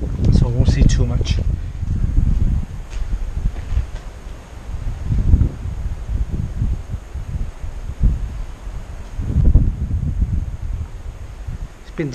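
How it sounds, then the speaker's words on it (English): Wind gusts buffet the microphone with low rumbling bursts, surging and easing several times, on a fire-damaged abandoned Victorian pier at Weston-super-Mare, while faint talk is heard briefly near the start. "It's windy in here, so I will apologise for the wind"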